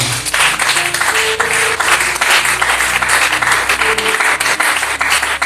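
A church congregation breaks into loud, sustained applause during a sermon on intercession, a dense continuous clapping close around, with faint voices mixed in.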